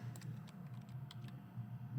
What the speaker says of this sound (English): I'm better off just typing this.